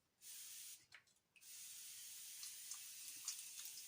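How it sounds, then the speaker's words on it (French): A facial water mist sprayed onto skin, a close airy hiss starting with a short burst, briefly pausing, then continuing as a long steady spray. "je termine ce nettoyage de ma peau le matin avec une petite brume d'eau"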